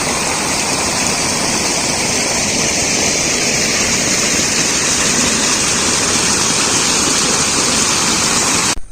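River water pours steadily over a traditional village weir in the Konkan countryside, a loud, constant broadband rush that continues unbroken and close by with no voices.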